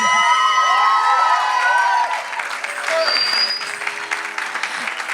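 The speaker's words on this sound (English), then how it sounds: "A big round of applause for our very own founder of Guru G.V. Ramani Natyakala Foundation, Guru Gayatri Subramanian." An audience at an Arangetram dance performance applauds and cheers, with sustained clapping and whoops over a held musical tone that fades, then scattered applause and crowd noise.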